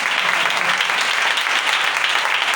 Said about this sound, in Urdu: ٹھیک ہے، بجائیں تالی